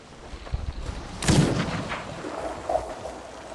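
A ship's cannon fires in the pirate video game Sea of Thieves, one loud booming blast with a rumbling tail, heard alone after a faint thump.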